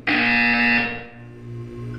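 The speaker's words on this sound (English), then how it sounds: "You will hear a buzzer." A buzzer in the video game Portal 2 sounds once, loud and harsh, holding for under a second before fading into a low electronic hum.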